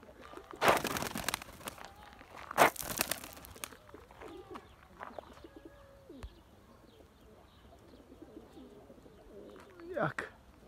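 Pigeons coo softly at a distance, with a few louder bursts of flapping or rustling near the bird and quiet talk in between.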